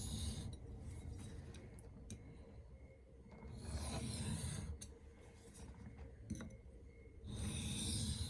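A 4V steel custom knife is hand-sharpened freehand on a stone with very light passes, giving soft rasping strokes that come in a few separate bursts with quiet pauses between them.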